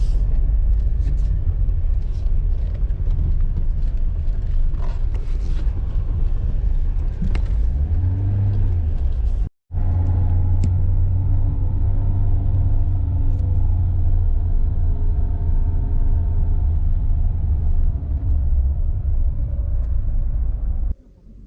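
A car driving on a rough, broken road in Ukraine, producing a continuous heavy low rumble of engine and tires with bumps and rattles throughout, briefly cutting out before the droning resumes.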